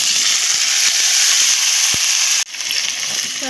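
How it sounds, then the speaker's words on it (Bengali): Cauliflower and potato pieces sizzle loudly in hot oil in a wok with fried onions, a dense continuous frying hiss with a few soft pops and a brief dip partway through, close and without talk. "এবারে আমি ফুলকপি আলুগুলোকে ঢেলে দেব"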